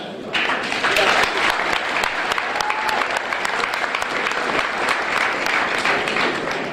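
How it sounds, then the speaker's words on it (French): A church congregation breaks into loud, sustained applause after a sermon, many hands clapping densely and steadily throughout, with a faint voice briefly audible beneath. "D'applaudir pour le Saint-Esprit et le Seigneur Jésus-Christ pour le message."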